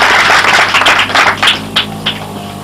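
A church congregation claps together at a service in Belleville, a dense patter of hands that thins into a few scattered claps by the end.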